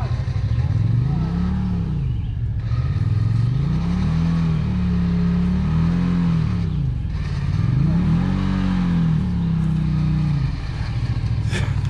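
A Honda Talon off-road vehicle engine revs loudly and steadily as it is winched out of mud, its pitch rising and falling in repeated surges. Voices can be heard under the engine.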